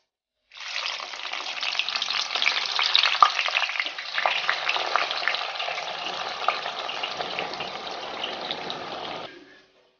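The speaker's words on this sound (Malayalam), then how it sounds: "നമ്മൾ ഈ സവാള ഞാൻ അരിഞ്ഞു വെച്ചിട്ടുണ്ട്. ഇതൊന്ന് ഫ്രൈ ചെയ്തെടുക്കണം." Sliced onions fry in a pan for a village-style Hyderabadi green chicken, giving a steady, dense sizzle with stirring scrapes, close and fairly loud, with no talking.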